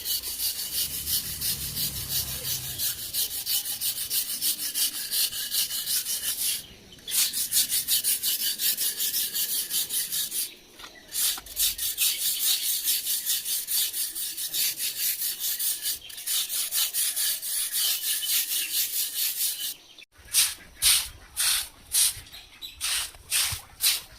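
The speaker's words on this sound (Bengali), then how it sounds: "ধুয়ে পরিষ্কার করে ফার্স্ট কোট অ্যাপ্লাই করা হচ্ছে, রূপ কোট ফার্স্ট কোট" Berger Roof Kool & Seal coat being brushed or rolled onto a cleaned concrete roof, a steady rhythmic scraping and rubbing that runs on with brief pauses and turns into quicker separate strokes toward the end.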